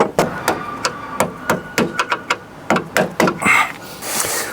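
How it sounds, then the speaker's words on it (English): A hinge on a Land Rover 110 is tapped into place with a series of sharp, loud metallic knocks close by, uneven in spacing, trailing off into a brief scrape and rustle. "Get your screwdriver in there. Twist like that. And then just tap it into place."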